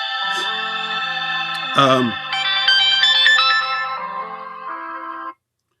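A phone ringtone sounds during a live stream, an electronic melodic ring of several bright tones with a brief sweeping effect midway, loud and close, cutting off abruptly at the end.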